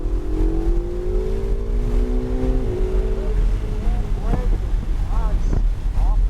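A Ferrari on a track accelerates at full throttle, its engine note rising steadily over strong wind buffeting on the microphone, with a few short squeaks and clicks toward the end.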